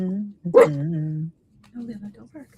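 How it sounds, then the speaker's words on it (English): A dog gives a bark and a drawn-out whining yelp indoors, loud and close, followed by quieter vocal sounds. "don't bark"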